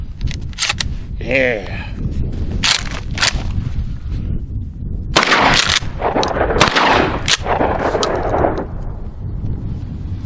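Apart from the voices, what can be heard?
Mossberg 500 shotgun firing buckshot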